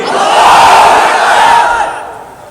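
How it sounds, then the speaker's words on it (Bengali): A large crowd at an Islamic religious gathering shouts the takbir together in one loud, sustained unison roar that swells for about two seconds and then fades away. "উচ্চ স্বরে সবাই বলুন লিল্লাহি তাকবীর"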